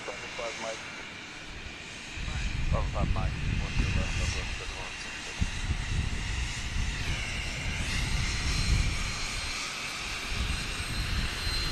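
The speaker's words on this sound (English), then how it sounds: "That's Delta 638 on an A319 from Dallas." A Delta Airbus A319 jet arriving at Dallas Love Field rumbles in with a broad, rising engine roar that swells and holds, while people talk throughout.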